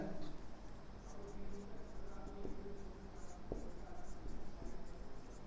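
Marker or chalk writing on a classroom board as an accounting formula is set down, steady scratchy strokes with faint room noise and a few light taps.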